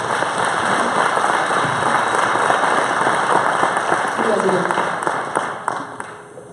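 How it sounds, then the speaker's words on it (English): Audience applause for volunteers at a Night to Shine training session in a church, a dense steady wash of clapping from a large room that fades toward the end, with some voices mixed in. "So again, if you wouldn't mind giving them another round of applause."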